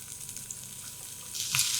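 Carrots, yellow bell pepper, corn and tomato sauté in a tempering for a quick school-lunch dish, making a soft, steady sizzle close by that grows a little louder near the end, with no talking.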